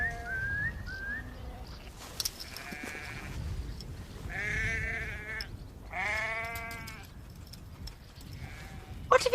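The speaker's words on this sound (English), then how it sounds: "Some of the sheep tried to go the wrong way, but Cal soon rounded them up." Several sheep bleat in turn, loud and fairly close, with drawn-out wavering calls separated by short pauses over a quiet outdoor background.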